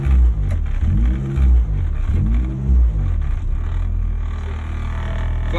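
Honda DC5 manual transmission fitted with a K24 engine, catching as it is shifted into gear: a steady loud engine drone with periodic swelling whirs and revving surges and no voices.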